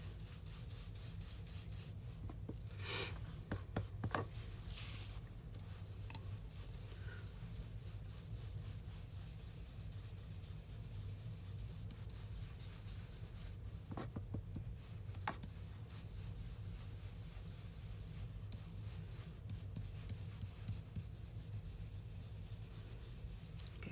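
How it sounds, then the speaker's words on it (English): A brush spreads ink across card paper laid over scrap paper, making soft, close rubbing strokes that come in quiet repeated passes with brief sharper scrapes, faint against a low steady background. "take the brush, get it in the ink, start off the paper, and just brush it on."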